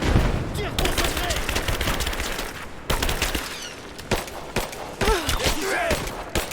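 Rapid gunfire during a firefight in Rise of the Tomb Raider, bursts of shots crackling close and loud with short pauses, while voices shout over the shooting.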